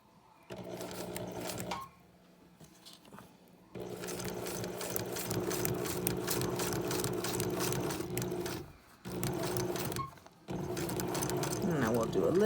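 A sewing machine stitches a recycled chip bag coin purse, a close, steady whirring hum in several bursts with short pauses between them. No one speaks.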